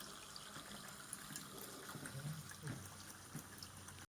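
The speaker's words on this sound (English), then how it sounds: "running water." Running water trickles and gushes steadily through a handmade nativity scene display in Arco on Lake Garda, a constant near splashing flow with no voices.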